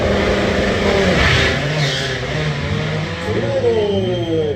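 Two 8-second front-wheel-drive drag race cars at Hal-Far Raceway roar continuously with loud revving engines and rising gear-change sweeps, dense and close throughout.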